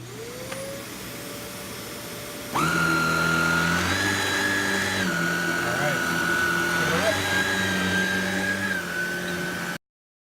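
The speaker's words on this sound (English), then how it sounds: "turn it on, and I'm going to show you here real quickly how quickly these brushes are starting to spin" A Hoover Air Power canister vacuum switches on partway through, its motor ramping up to a loud, steady whine as the brushes spin up, after a quieter lead-in hum.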